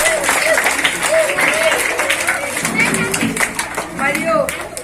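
An audience claps at a Lions Club school event at a Zilla Parishad high school in Bodhan, with steady applause running throughout beneath a voice speaking over it.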